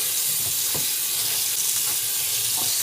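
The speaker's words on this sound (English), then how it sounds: "I'm going to rinse it real quick" Tap water runs steadily over noodles in a kitchen strainer, a continuous close hiss with a few faint soft knocks and squelches as they are rinsed.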